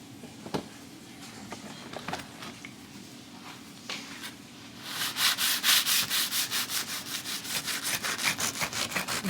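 A serrated knife sawing through a loaf of bread into thick slices, starting with light scattered scrapes, then a steady run of fast, rasping back-and-forth strokes, close and clear with no talk.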